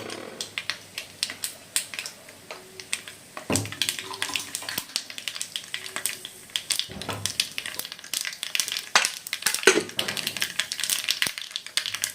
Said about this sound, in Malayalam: കടുകെല്ലാം പൊട്ടി